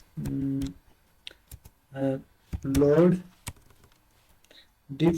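Python code is typed on a computer keyboard, with scattered crisp key clicks in the pauses between spoken phrases.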